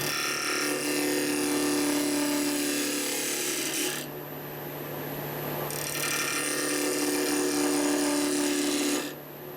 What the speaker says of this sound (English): So we'll switch the lathe on and let's make those cuts.